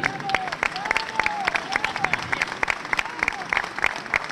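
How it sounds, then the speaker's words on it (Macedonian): A crowd at a public gathering in support of detainees claps steadily, sharp dense handclaps with faint voices mixed in. "Ве молам еден голем аплауз за сите нив."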